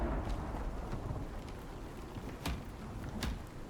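A thunderstorm in the survival game Icarus pours heavy, steady rain with low rumbling thunder and sharp crackles, dense and continuous with no voices.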